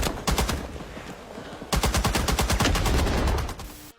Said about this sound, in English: Not a super common machine gun in video games, though it does exist elsewhere.